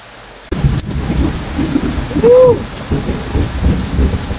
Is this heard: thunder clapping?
yes